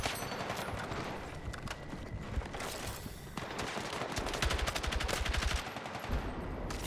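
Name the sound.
gunfire from the video game Battlefield 6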